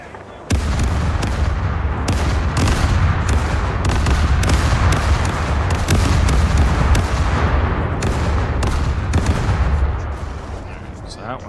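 Fort cannons firing in the pirate game Caribbean Legend, heard as a dense, continuous barrage of booming blasts and rumbling that is loud and sustained for about ten seconds, then fades.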